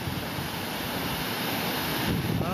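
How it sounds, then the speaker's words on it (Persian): The flooding Sirwan river rushes past in a loud, steady roar of turbulent water, unbroken and with no voices. "تصاویری که مشاهده میکنید طغیان رودخانی سیروان است"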